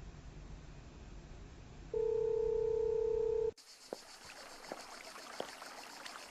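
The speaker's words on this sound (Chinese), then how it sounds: "云吞，你继续打电话" A telephone line gives a steady, clear dial tone for about a second and a half, then cuts off to faint background noise with a few sharp clicks, as if someone is placing a call.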